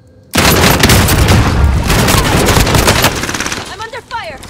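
Dense automatic gunfire with booming explosions bursts in loudly in a tactical shooter video game, a sustained roar of rapid shots that thins toward the end as a player shouts under the barrage.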